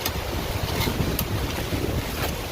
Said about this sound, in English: I hope y'all can hear me because it's really windy, and I hope it doesn't blow over my tripod.